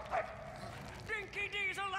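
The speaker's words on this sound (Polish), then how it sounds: "Good dog." A dog in the Mad Max video game gives a short bark followed by higher whimpering yips, close and moderately loud, with some voice alongside.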